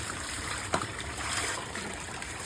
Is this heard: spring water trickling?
yes